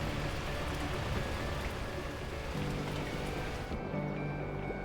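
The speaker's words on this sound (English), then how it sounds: "Ooh, listen to that rain." Steady rainfall in the Beacon Pines video game, a dense, even hiss of falling drops, continuous and fairly soft throughout with no voices.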